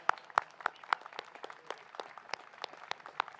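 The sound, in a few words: round of applause for hospital staff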